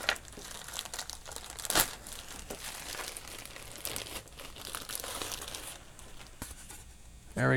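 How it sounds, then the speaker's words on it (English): Close plastic packaging crinkling and rustling in bursts as model aircraft parts are unboxed, with a sharp crackle near the start and handling noises throughout. "I'm just opening up the parts so we can have a look."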